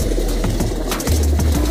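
Racing pigeons coo in low, soft throaty bursts, one cooing phrase following another at close range against a steady background hum.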